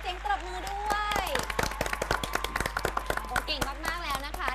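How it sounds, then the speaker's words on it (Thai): A studio audience claps for a school team on a Buddhist quiz television show, the sharp, fairly sparse hand claps ringing out over music and a low electrical hum, with a brief voice at the start. "ขอเสียงปรบมือด้วย"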